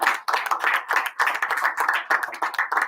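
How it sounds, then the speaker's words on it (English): An audience at a school board meeting claps by hand, a small group of moderate, uneven applause that keeps going steadily for about three seconds with no voices. "So please give them a round of applause."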